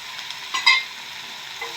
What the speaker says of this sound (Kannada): ಅಷ್ಟು ಟೊಮೆಟೊ ತುಂಬ ಸಾಫ್ಟ್ ಆಗೋ ತನಕ ಫ್ರೈ ಮಾಡ್ಕೋಣ